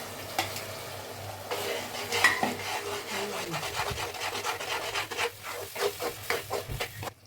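Grinding and rubbing on a small ammi stone, the kind used for preparing masala: steady rasping strokes, close and fairly loud, running in a repeated back-and-forth rhythm with no talk over them.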